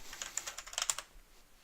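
Rapid computer keyboard typing, a quick run of crisp close key clicks over about a second, then near silence.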